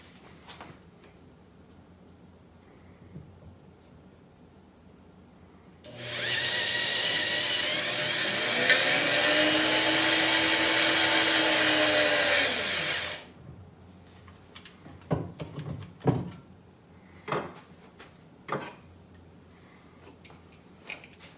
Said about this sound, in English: Got the center drill chucked up.